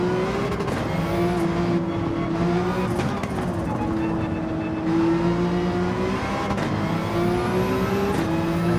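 Race cars circling a track in the Gran Turismo 7 racing game, engines holding a steady, sustained drone with shifting pitch and occasional tire noise, continuous and loud throughout.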